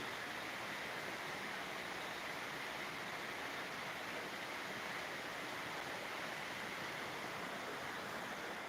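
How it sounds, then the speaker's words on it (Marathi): Rainwater rushing and flowing everywhere after a heavy downpour, a steady, dense wash of water noise that continues unbroken throughout without any talk. "सुंदर पावसाच पाऊस झालेला आहे पाणीच पाणी वाहतंय"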